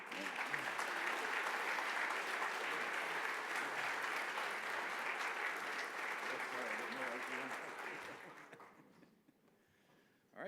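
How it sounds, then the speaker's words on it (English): An audience at a scientific workshop plenary session applauds in a sustained, dense round that lasts about eight seconds and then tapers away to near quiet. "So one last round of applause, and then don't move"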